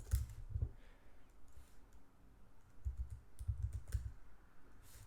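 Bursts of quick typing on a computer keyboard, clustered clacking keystrokes with short pauses between runs, close and fairly quiet, no voices.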